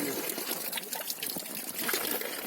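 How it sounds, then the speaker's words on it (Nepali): Water trickles steadily from a village drinking-water spout in Banchu, a soft continuous splashing and dribbling that stays close and unbroken throughout. "त्यो पानी खाने धार हो"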